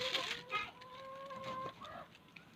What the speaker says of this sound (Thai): ไก่ก็อยู่กันตรงนี้กันก๊อกก๊อก